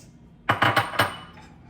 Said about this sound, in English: Add the nuts